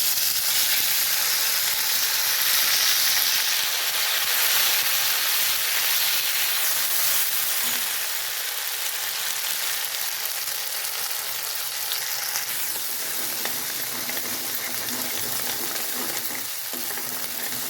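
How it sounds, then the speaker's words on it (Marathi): Ground masala paste for egg curry frying in oil over low heat, a dense, steady sizzle that fills the whole stretch, with faint stirring scrapes, close and continuous, no talk. "तेल सुटेपर्यंत चांगलं भाजून घेणार आहे."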